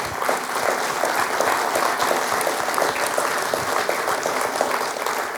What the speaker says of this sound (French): Si vous pouvez les applaudir, s'il vous plaît.